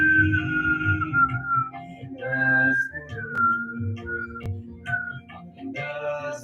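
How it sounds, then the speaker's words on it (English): A person whistles a wavering, sustained melody during a Kundalini yoga session, the clear tones sliding between pitches over soft background sound, with no speech. "Keep whistling."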